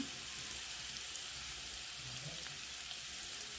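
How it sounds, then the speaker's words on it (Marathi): Red and black chili powder fries in oil over a wood-fired chulha, giving an even, close sizzling hiss that holds steady throughout with faint low crackle underneath. "परत मस्त तळू द्यायचे"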